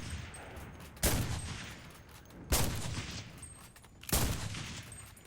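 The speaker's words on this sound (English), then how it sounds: "This is the Lebel Rifle, and with its high rate of fire," A Lebel bolt-action rifle firing in the game Enlisted: three loud, sharp shots spaced about a second and a half apart, each with a rolling echo tail, heard alone.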